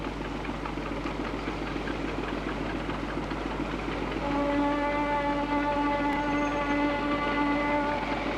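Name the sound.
train running on rails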